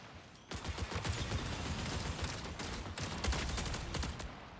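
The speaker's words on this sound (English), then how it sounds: "I just got sniped by one of the AI" Rapid bursts of gunfire crackle almost continuously in the Marathon shooter game as an AI enemy fires on the player, dense and loud with a brief gap before resuming.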